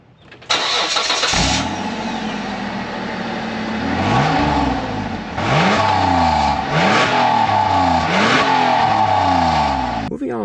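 A 1997 Mitsubishi Pajero Evolution fires up and settles into idle, then its engine is blipped through the exhaust in several rising and falling revs, loud and close, with a brief voice near the start.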